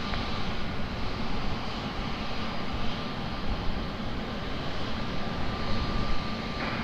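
An aircraft lands at Lisbon Airport, a steady broad engine roar that holds at an even loudness throughout, with no talking.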